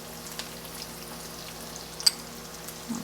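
Sweated onions with freshly added garlic sizzle in a heated pan for beef pares and garlic fried rice, a faint, steady hiss with a couple of small clicks and ticks.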